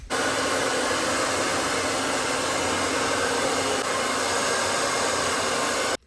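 A hair dryer blows loud and close in a steady broadband rush while drying hair that has just had styling product applied, running unbroken for about six seconds before cutting off.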